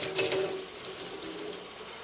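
Tap water splashes into a sink while an air conditioner drain part is rinsed under it, a steady close rush that is strongest at the start, then settles to a softer flow.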